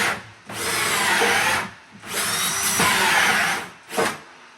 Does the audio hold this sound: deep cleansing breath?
no